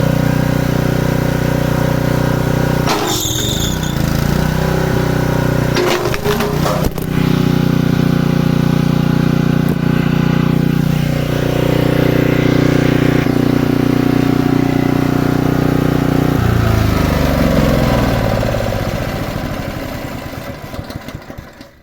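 A small petrol engine on a log splitter drones steadily throughout, loud and close, its pitch dipping and bogging briefly under load while splitting wood, with clanks and knocks from machinery.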